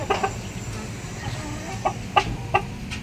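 A brooding hen clucks on a farm, a string of short, close clucks in an irregular rhythm over low background rumble, with no talk.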